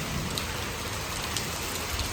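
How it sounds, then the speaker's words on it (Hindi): Steady rain falling outdoors, a dense even hiss of drops on surfaces that carries on without a break and without voices. "ये देखें बारिश शुरू हो गई है"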